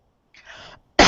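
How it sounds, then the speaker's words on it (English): A single sharp, close cough bursts out at the end, preceded by a short, faint throat sound. "I'm sorry for coughing."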